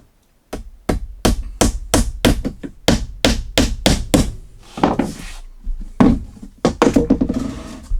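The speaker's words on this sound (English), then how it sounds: "nailing this down with these little brads all the way around" Small brad nails are hammered into plywood in quick, sharp taps, loud and close, arriving in rapid bursts with short pauses and a few heavier blows.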